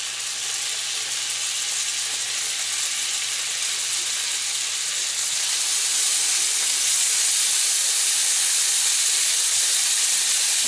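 Shrimp sizzling in a hot pan with butter, a steady, loud frying hiss that holds and slightly swells, with no talking.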